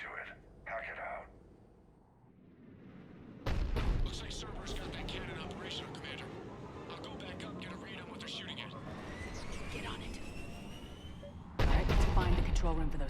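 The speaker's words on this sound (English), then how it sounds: "The cannon fire is clearing the way." Cannon fire in the video game Mass Effect 3: heavy booming blasts and a sustained roaring rumble of battle, with sudden loud onsets near and far, over which voices talk.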